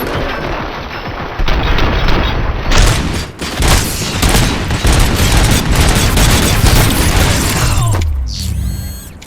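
Loud, dense gunfire from the Robocop Rogue City video game fills the scene, with sustained rapid bursts, heavy booms and mechanical clanks running nearly nonstop before ending in a whirring mechanical sweep.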